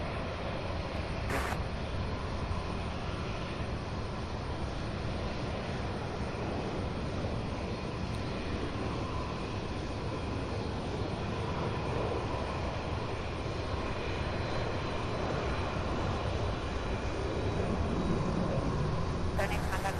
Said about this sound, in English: The last MD-11 arrival on final approach will be here in just a few seconds.